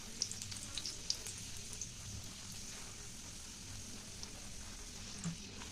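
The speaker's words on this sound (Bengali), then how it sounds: "দেখো গ্যাসে আমি তেল আগেই বসিয়ে দিয়েছিলাম, এবার ভেজে নেব কচুরি" Pea-stuffed kachori frying in hot oil, a faint even crackle and bubbling with a few sharp pops near the start, quiet and steady throughout.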